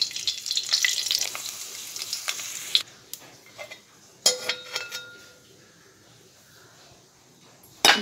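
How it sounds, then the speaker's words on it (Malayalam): Cashews and raisins fry in hot ghee for a beef stew, giving a loud, dense sizzle for about three seconds that then drops to a quieter crackle, with a few sharp clinks of a utensil against the pan. "എന്നിട്ട് നമുക്കിത് വറുത്ത് പൊരിയെടുക്കാം."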